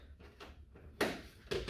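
A GR Supra door lock wiring connector snaps into place, giving two short, crisp clicks close to the mic over quiet handling noise.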